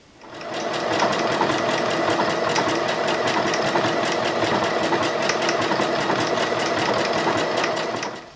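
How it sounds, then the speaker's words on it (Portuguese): Sewing machine stitching a finishing topstitch seam on a fabric piece, a loud, close, fast rhythmic whir that starts up, runs steadily and winds down at the end. "eu vou começar a rebater, eu vou começar a fazer a costura de acabamento aqui."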